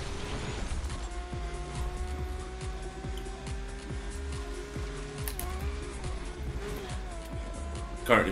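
A racing car engine in the video game Need for Speed drones steadily, with rising revs and repeated gear-shift dips. It stays continuous and fairly even in level throughout.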